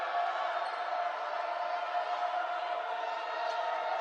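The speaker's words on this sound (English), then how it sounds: "Crowd getting into it a bit here at the Atlantic Union Bank Center." Crowd noise from spectators at a basketball game in the Atlantic Union Bank Center arena, a steady broad roar of voices holding at an even level throughout without distinct peaks.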